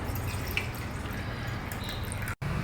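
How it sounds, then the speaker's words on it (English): Soaking water draining off a handful of soaked rice, a steady close trickle and splashing run without a break for a few seconds, with one brief dropout near the end. "Now I will just drain out the water."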